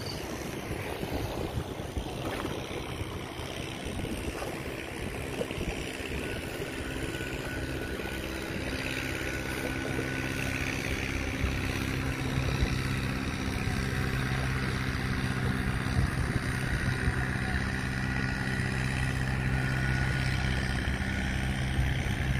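A fishing boat fleet heads out to sea off Vietnam, heard as a steady, loud wash of engine drone, waves and wind buffeting the microphone that continues without a break and with no talking.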